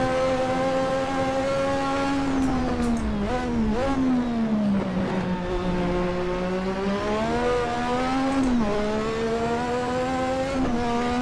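A race car driven on a lap in the Assetto Corsa racing game: a loud, continuous engine whine that rises and falls in pitch through gear changes and corners, with no talking.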